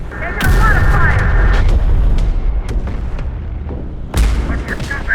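Battle in the Terminator: Dark Fate - Defiance video game: close, heavy booms of artillery and gunfire, with a loud blast at the start and another near the end, rumbling decay between.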